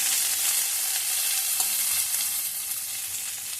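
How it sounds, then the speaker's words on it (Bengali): Fenugreek leaves frying in oil for methi chicken make a close, even hiss of sizzling with faint stirring, and no voices are heard. "সেটা দিয়ে দিই, ভালো করে একটু ভেজে নেবো তেলের ওপর।"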